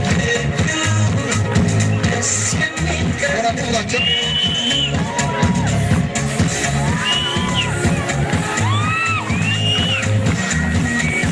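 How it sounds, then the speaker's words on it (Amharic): A school closing ceremony audience claps and cheers steadily, with loud whoops and whistles rising above a dense crowd roar and background chatter. "በጭብጨባ"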